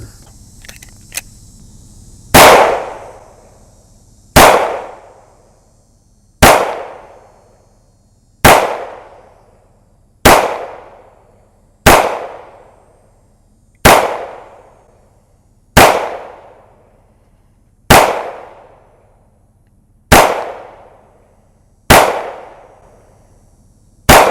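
Shots fired on a Mantis small arms training system: eleven sharp, loud, close cracks land at a steady rhythm about two seconds apart, each decaying quickly. There is no talking between them.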